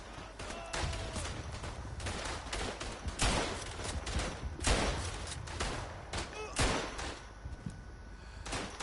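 Rifle fire in the World War I shooter Verdun, with French rifles among it: sharp single cracks and heavier thumps ringing out irregularly, some near and loud, others more distant, over a low battlefield rumble.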